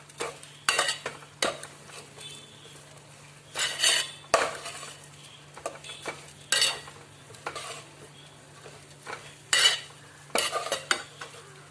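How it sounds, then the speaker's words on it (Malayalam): Beaten rice flakes (aval) are stirred in a pan on the stove, with repeated bursts of a utensil scraping and clinking against the metal over a faint low hum between strokes. "അതിലേക്ക് നമുക്ക് അവല് ചേർത്തിട്ട് ഇളക്കാം"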